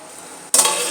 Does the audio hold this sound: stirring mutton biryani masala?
yes